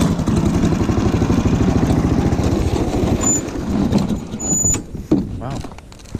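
A Snowdog tracked snow vehicle engine runs on choke with a rapid, rough, loud putter that wavers and then eases lower and more uneven toward the end.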